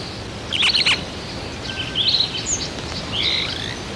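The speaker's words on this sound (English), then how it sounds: "keeping contact through calls that penetrate the sound of rushing water" Bright chirping starling calls come in three short bursts over a steady broadband rush of flowing water on Kilimanjaro.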